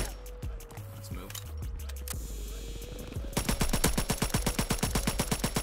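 Full-auto M1A1 carbine firing in Call of Duty WW2, first scattered shots under game noise, then a steady, loud rapid-fire burst of evenly spaced reports continuing to the end.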